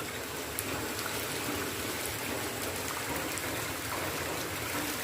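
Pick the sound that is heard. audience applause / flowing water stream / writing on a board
flowing water stream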